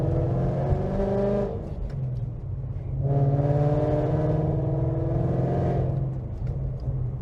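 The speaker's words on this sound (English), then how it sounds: "I'm just driving around in circles." A car drives around in circles, its engine humming loudly and steadily, then swelling and easing in repeated waves of acceleration, with no voices.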